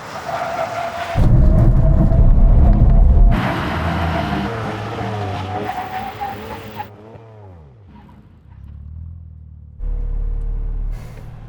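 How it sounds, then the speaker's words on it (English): Tuned Manhart BMW M3 and M2 coming to a full emergency stop from 160 km/h, with loud engine and road roar dropping away as the cars slow, plus a falling whine and tire noise, then an idle, no talk. "And now we go a brake test from 160 kilometers an hour. When we reach the line, full emergency stop."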